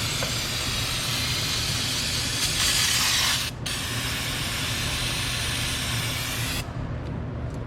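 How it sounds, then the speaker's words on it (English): Brake cleaner from an aerosol can sprays onto spilled power steering fluid on a Ford Ranger, a loud continuous hissing burst with a brief break partway through before the spray resumes and cuts off near the end. "get some of this power steering fluid off with some brake clean"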